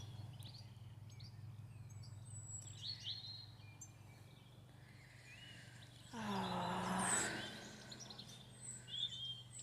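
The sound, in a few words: birds singing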